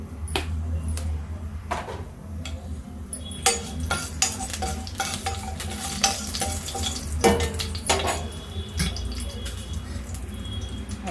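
Dried red chillies fry in hot oil in a pan for a village-style broad bean and coconut stir-fry. A steady close sizzle carries light scraping and clinks of a utensil against the pan.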